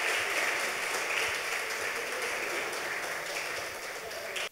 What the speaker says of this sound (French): Mesdames et messieurs, je vous demande d'applaudir chaudement Moïsou.